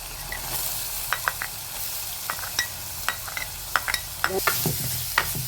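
Mustard seeds and curry leaves sizzling in hot oil in a pan, a steady close hiss broken by a series of sharp pops and crackles spaced irregularly, with no talk.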